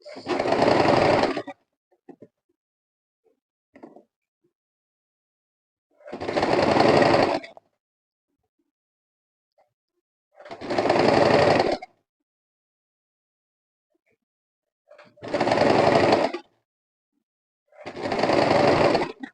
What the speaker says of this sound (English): Just sew on the lines.